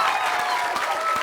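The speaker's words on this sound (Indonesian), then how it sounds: "sekali lagi kita berikan tepuk tangan untuk 3 anak manis" A TV studio audience claps steadily, a dense and fairly close burst of applause with no break.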